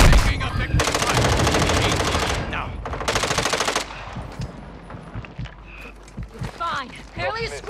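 Rapid machine-gun bursts in Call of Duty: Modern Warfare II rattle loudly in two long volleys, then scattered single shots and battlefield clatter follow, with voices speaking over the action.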